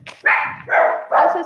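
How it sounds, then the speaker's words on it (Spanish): A house dog barks three times in quick succession, close and loud, during an online class held from home. "perdón por mis perros"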